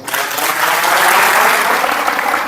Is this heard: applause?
yes